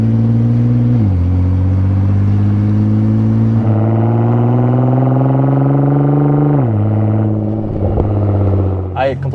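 A Nissan GT-R with a titanium aftermarket exhaust revs hard nearby. Its droning note climbs steadily, drops sharply, rises again and ends with a quick blip, loud and close throughout.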